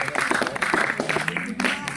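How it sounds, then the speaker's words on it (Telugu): An audience applauds a girl at a Constitution Day gathering, with dense, continuous clapping from a crowd filling the short moment and a voice speaking over it. "అమ్మాయికి ఒకసారి గట్టిగా చప్పట్లు కొట్టండి"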